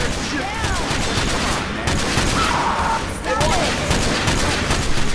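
Rapid bursts of gunfire from a City 17 shooter video game, loud and dense across the whole stretch with brief pauses, mixed with game sound effects.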